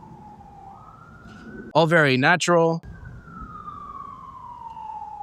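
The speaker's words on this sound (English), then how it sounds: "Oh, and there's a siren in the background." A police siren wails in the distance across Georgetown in Washington, D.C., a faint, slowly sliding tone running under a brief stretch of nearby talk before and after it.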